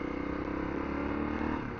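A motorcycle engine idles steadily nearby, a continuous even low rumble with a fast regular pulse and no voices.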